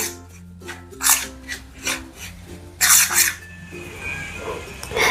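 A spoon works ghee into semolina in a bowl, making a series of close, gritty scraping and rubbing strokes in uneven bursts with short pauses between them.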